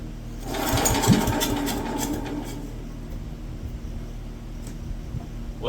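Wisconsin AB military Signal Corps generator engine running steadily with a constant low mechanical drone, slightly louder at first and then settling into an even idle, with no talk over it.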